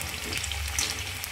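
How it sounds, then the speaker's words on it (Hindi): Potato pieces fry in hot oil in a pan, a soft continuous sizzle with gentle stirring noise, close and moderately quiet, with no voices. "तो आलू हम 2 बार में फ्राई करेंगे"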